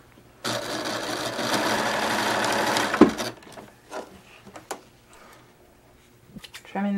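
A sewing machine runs in one steady burst of about three seconds, stitching slipcover edges together, then stops, followed by quiet handling noises and soft voices nearby.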